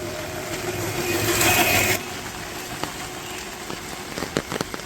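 Light rain spatters on surfaces around a rural home, a faint, continuous patter with a brief louder wash early on and a few scattered sharper drops later.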